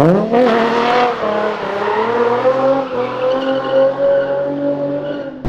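An Opala drifting beside a Nissan 350z, its tires squealing in a loud sustained wail that wavers in pitch over the roaring engine, close and continuous until a sharp cut at the end.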